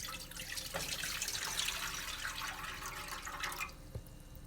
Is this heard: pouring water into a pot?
yes